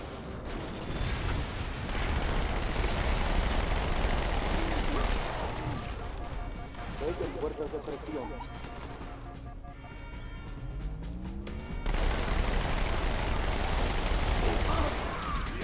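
Heavy gunfire and explosions from the video game Halo 2 played on Legendary difficulty, a dense, continuous barrage of shots and crashes that briefly thins in the middle before surging loud again.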